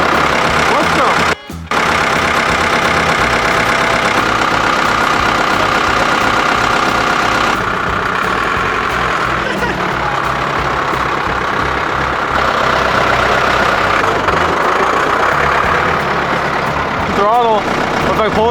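A vintage Ford tractor engine runs at a steady, loud idle on a city street, rumbling continuously while people talk over it.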